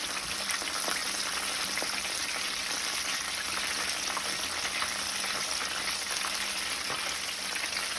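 Honey Hennessy chicken wings, a second batch, sizzling in hot oil with a steady, even frying crackle and fine popping throughout, loud and close, with no talking.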